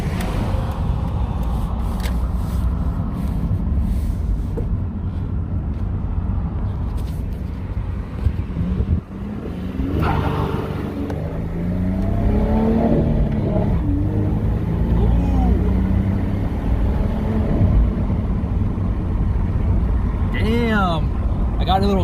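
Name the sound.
twin turbo V6 Ford Mustang engine accelerating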